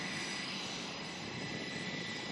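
Small yellow propeller airplane at an air show drones steadily overhead, a continuous, moderately faint engine hum with no talk.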